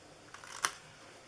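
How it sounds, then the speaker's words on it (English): Scissors cut paper for a DIY papercraft gift box: one short, crisp snip near the middle, faint and close, with quiet around it. "and then you're going to cut into these."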